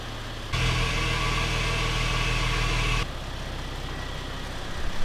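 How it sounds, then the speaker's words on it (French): An Audi car idles steadily with a low, even engine drone as it pulls into a garage, the hum starting abruptly after half a second and dropping back to quieter rumble after three seconds. "c'est juste le bruit d'une voiture"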